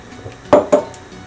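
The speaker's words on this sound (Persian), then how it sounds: "بعد از 20 دقیقه شکر یا بوره را مخلوط میکنم با این شیر برنج ما" A spoon knocks twice against a pot while sugar is stirred into Afghan rice pudding, two close, sharp metallic clinks over quiet kitchen background.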